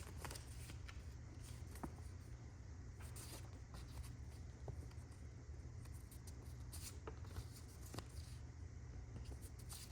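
Faint rustling and shuffling of paper note cards handled before a classroom persuasive speech, soft scattered flicks and taps over a steady low room hum, no talk.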